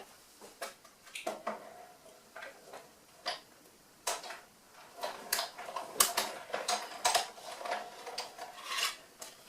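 A craft die-cutting machine runs with faint, irregular ticking and clicking, bursts of light mechanical rattles scattered over a quiet background, and no voices.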